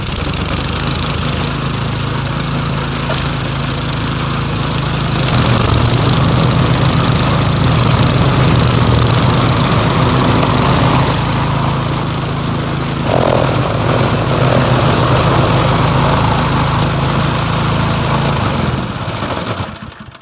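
Snowblower running outdoors after a drive belt replacement, a loud continuous engine drone with a chugging low rumble that steps up in intensity partway through and holds steady, with no talking.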